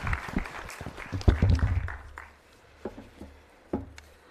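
Conference audience applause for a speaker at an international forum hosted in Tanzania, a burst of clapping that swells then fades into scattered claps and knocks, with a few faint voices.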